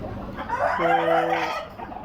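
A Tiger breed rooster crows once, long and loud, over a background of Tiger breed chickens clucking nearby.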